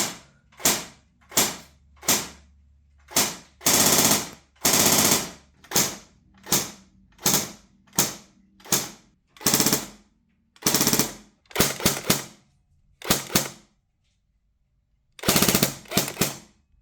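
An airsoft replica fitted with its stock piston head and cylinder head fires a series of sharp, close, loud shots, mostly singles spaced about half a second apart, with a few quick doubles and a brief pause near the end.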